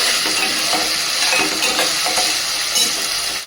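Potatoes roasting in oil in a pan make a loud, close, continuous sizzle with busy stirring and crackle that runs without pause, then cuts off abruptly.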